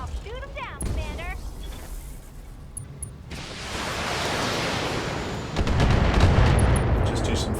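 Long-range missile fire support in the BattleTech video game, heavy rumbling barrages and impacts building in loudness over the span, with a voice speaking briefly near the start.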